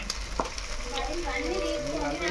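Chicken pieces go into a hot frying pan with ginger paste and masala, a brief burst of close sizzling with stirring scrapes and a faint voice in the background.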